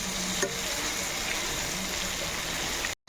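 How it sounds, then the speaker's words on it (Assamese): Potatoes frying in a pan of oil for a pork curry, a steady close sizzle with crackling spatter running evenly throughout, ending in a brief cut to silence. "এতিয়া আলুখিনি দি দিম আলুখিনি ফ্ৰাই হ'বলৈ"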